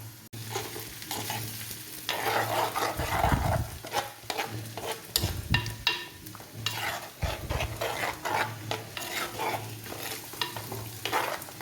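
A spoon stirs bitter gourd and mango curry in a hot pan on the stove, giving close scraping and clinking strokes over a steady low sizzle, with louder stirring bursts near the middle.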